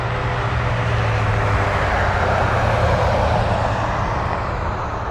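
A Kodiak 100 seaplane moving near Anchorage gives a steady, moderately loud propeller engine drone with a low hum, continuous and unbroken for the whole stretch, with no talking.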